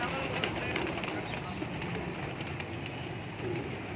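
Pigeons coo at a large breeding setup in Lahore Cantt, their soft repeated calls blending into a dense, steady wash of background noise for the whole stretch.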